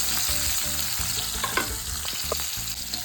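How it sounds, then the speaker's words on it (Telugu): Onions and green chillies frying in a pan, a loud, dense close-up sizzle with repeated stirring knocks underneath. "ఆనియన్స్ చిల్లీస్ వేసేసాను దీంట్లో. సో వేసి బాగా ఫ్రై చేయాలి"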